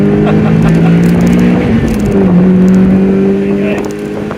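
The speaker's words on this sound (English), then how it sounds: "The rev limiter works then." Mazda MX5 MK2 1.8 VS Edition engine held near its rev limiter, a loud steady high-pitched drone with a brief dip and recovery, heard from inside the cabin while a voice speaks briefly.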